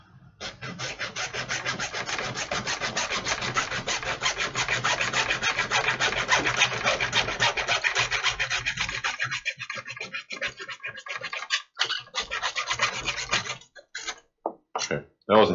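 A hacksaw cuts steadily through material during a PC case loop build, producing a long run of close, rapid rasping strokes that slows into a few separate strokes near the end.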